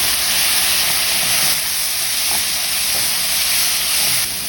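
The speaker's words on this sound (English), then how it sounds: "Now we're going to add our tomatoes." Tomatoes hit a hot frying pan for an egg curry and set off a loud, steady, close sizzle that hisses without a break the whole time, with faint clinks underneath.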